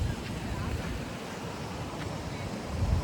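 Steady rushing water where three streams meet fills the scene with a constant broadband wash, loud and close, with low rumbling gusts throughout.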